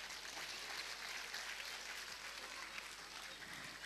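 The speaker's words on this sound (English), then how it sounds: "A huge, huge round of applause for all of them." An audience at a preschool annual day claps in a continuous, fairly distant round of applause that stays level throughout.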